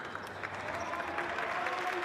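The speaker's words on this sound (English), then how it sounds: "And Jinjaraze got applause in here coming off the court as well." Spectators at a FIBA World Cup qualifier basketball game applaud a player leaving the court, a moderate crowd clapping in the arena beneath a commentator's voice.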